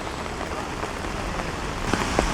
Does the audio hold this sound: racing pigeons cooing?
no